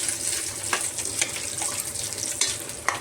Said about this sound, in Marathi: आता हे परतलं ना मी ह्याच्यामध्ये ना गरम पाणी टाकणं शिजण्याला